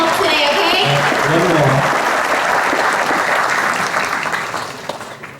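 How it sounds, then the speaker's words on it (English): Loud applause from a celebration audience thanking the day's helpers, with a voice talking briefly over the opening moments before the clapping carries on alone and gradually fades. "Let's do a big round of applause for everyone that came to help today"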